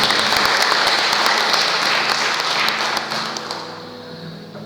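Sustained applause from a church congregation during a Sunday service, loud and dense throughout, fading slightly toward the end.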